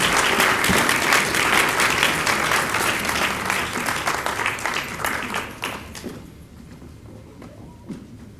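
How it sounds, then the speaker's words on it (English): Sustained applause from an audience for the Villanova Singers men's choir, dense and steady clapping that thins out and fades toward the end, leaving a few scattered claps. "please another round of applause for these fine young men."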